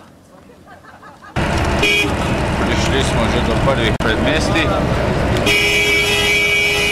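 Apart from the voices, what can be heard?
car horn honking repeatedly on road near Lhasa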